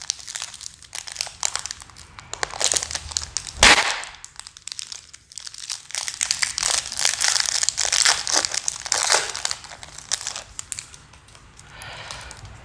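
A Magic: The Gathering Jumpstart booster pack wrapper is crinkled and torn open close up, with sustained crackling plastic, a sharp tearing rip early on, then more handling and rustling crinkles.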